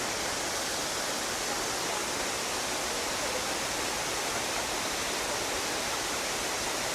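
A loud Nova Scotia waterfall roars as a steady, dense broadband rush of crashing water, constant and close throughout with no pauses.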